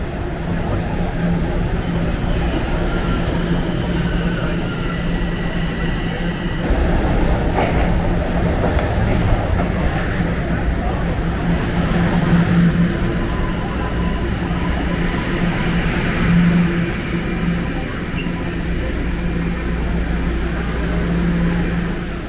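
Newer Toronto subway trains run through a wide station hall, a continuous rumble of wheels with occasional squeals and clatter, loud and sustained over the whole stretch.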